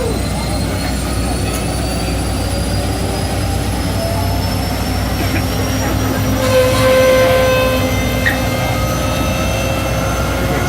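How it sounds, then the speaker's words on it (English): An M1A2 tank's gas turbine engine starts up with a loud whine that drones steadily with rising high-pitched tones, a continuous roaring engine sound building slightly near the end. "Turbine engine starting up. This thing uses a gas turbine engine."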